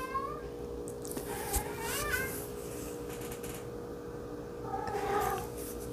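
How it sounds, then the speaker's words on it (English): A cat meows a few times, drawn-out and wavering, at close range over a steady low background hum. "I don't know if you can hear that. That's my cat."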